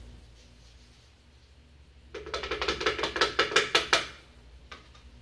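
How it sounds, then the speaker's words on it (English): A wooden stick stirs a can of house paint, first a quiet stretch, then a run of about a dozen quick, knocking scrapes against the can before it settles again. "take the stick, give it a couple good stirs"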